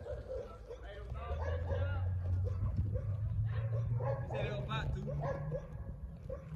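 Several stray dogs bark and yip outdoors at mid distance, a busy overlapping run of barks with some whimpering, under steady low background noise and people talking nearby.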